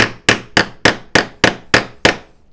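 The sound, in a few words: hammering plywood plugs into drilled holes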